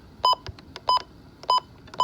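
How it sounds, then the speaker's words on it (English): Midland WR120EZ weather radio sounding a series of short, bright electronic button beeps, about four evenly spaced pairs over two seconds, close and clear with no talking. "button beeps. Turn them off."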